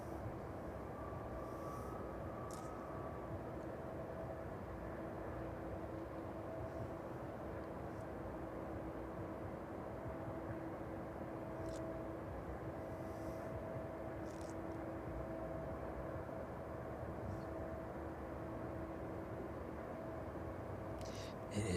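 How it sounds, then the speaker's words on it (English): A Boeing 767 rolls out along the runway at East Midlands Airport in the evening, giving a steady, even roar of distant engine and rolling noise that holds at much the same level throughout, with no talk heard. "just passing the runway threshold now."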